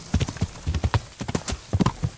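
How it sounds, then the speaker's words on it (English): Horse hooves clip-clop at a brisk, uneven trot in the medieval video game Kingdom Come: Deliverance, a close series of sharp hollow knocks in quick clusters, clear and alone. "Let's call my horse."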